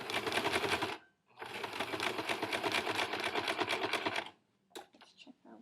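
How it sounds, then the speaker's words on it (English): A regular straight-stitch sewing machine sews the waistband of a circle skirt in two loud, close bursts of rapid mechanical chatter separated by a short pause, followed by a brief spoken remark. "we're going to go to the straight machine, the regular sewing machine, and we're going to go ahead and stitch our waistband"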